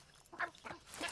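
Chicharron the rooster in Far Cry 6 lets out a few harsh, nasal squawks in quick succession, close and fairly quiet.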